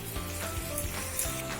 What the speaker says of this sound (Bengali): এবার আমরা একটুখানি কষার সময় দিচ্ছি